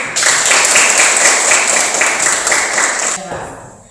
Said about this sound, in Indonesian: Tepuk tangan untuk kita semua sekali lagi.